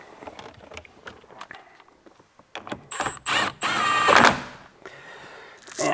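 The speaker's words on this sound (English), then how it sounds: "we're going to take our 16mm bolt and we're going to tighten this up" Tightening a 16mm bolt on the steering wheel of an F56 Mini Cooper, heard as a string of small clicks and taps, then a loud burst of power-tool whirring in short runs, close by.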